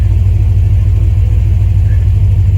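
A supercharged C4 Corvette with a ZZ3 5.7 V8, Paxton blower and Edelbrock heads idling up close, a loud steady low rumble with an even pulsing beat, no voices.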